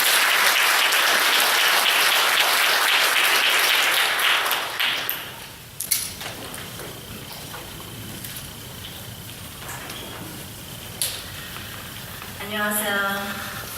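An audience at a Korean overseas community forum on peaceful reunification applauds to welcome a senator, a dense, loud wash of clapping that fades out after about five seconds and gives way to quieter room noise and brief talking.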